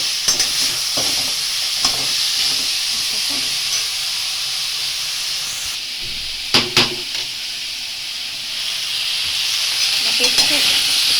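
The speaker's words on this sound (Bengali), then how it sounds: "আমটাকে খুব ভালো করে কষাতে হবে আমটাকে কষিয়ে আমের চাটনি করব" Mango pieces sauté and sizzle in a pan for chutney, with a steady hiss under repeated stirring scrapes and a few sharper clatters of the spoon against the pan.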